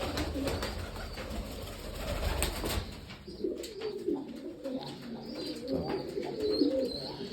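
Pigeons coo while feeding nearby, with loud throaty coos rising after a noisy start and continuing in overlapping bursts, close and clear.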